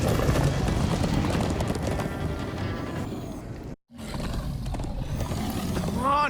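Rapid galloping hoofbeats in Minecraft: Story Mode pound along with rushing, roaring game sound effects and a brief dropout midway before the thundering run resumes.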